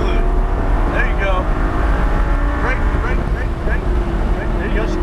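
A Lamborghini Gallardo LP560-4 on a track day, engine roaring continuously under acceleration with rising revs and shifting pitch, heard from inside the car over a constant rush of road and wind noise.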